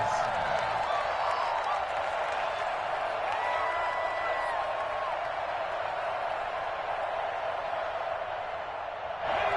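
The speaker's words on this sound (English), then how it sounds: "this crowd loves it as their guys hold on the opening drive" Large football stadium crowd roaring steadily after the home defense holds on a fourth-down stop on the opening drive, a dense, sustained cheer with clapping and whoops throughout.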